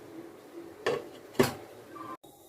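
A metal lid is set over a pot of dal, giving two distinct clanks about half a second apart, close and clear against a quiet kitchen background.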